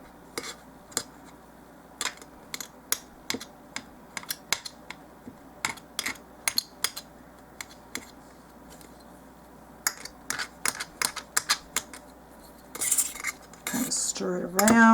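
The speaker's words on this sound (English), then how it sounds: "Chop it up, continue chopping," A blade chops dark red polymer clay into bits for doll-size burger patties: a series of sharp, close, irregular taps and clicks with short pauses, ending in a denser scraping burst.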